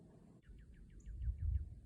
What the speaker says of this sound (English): Lots of birds singing today.